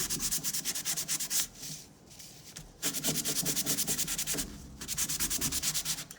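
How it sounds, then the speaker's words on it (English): A collar is sanded by hand with sandpaper in steady back-and-forth strokes, a rhythmic scratchy rubbing that pauses briefly twice before resuming, close and alone. "You are gonna take your sandpaper and you're gonna sand it."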